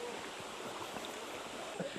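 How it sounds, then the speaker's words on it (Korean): A mountain valley stream flows beside a hiking trail on Dobongsan, a steady broadband rush of water with no breaks, moderately quiet and close. "계곡길이 너무 좋아요. 물소리도 듣기 좋고"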